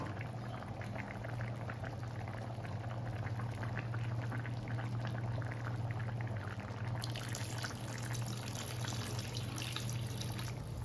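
Hang Lay curry boils steadily in a pot, a continuous dense bubbling and simmering that stays close and even throughout, with no talking.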